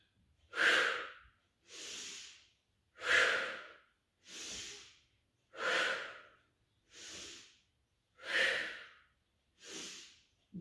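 Rhythmic breathing during a Pilates exercise, with eight strong inhales and exhales alternating steadily about every 1.3 seconds. The breaths are close and clear with no talk over them.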